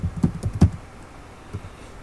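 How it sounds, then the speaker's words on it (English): Quick key presses on a computer keyboard while a message is typed, a short irregular run of soft clicks, then a pause and one more tap. "type your message"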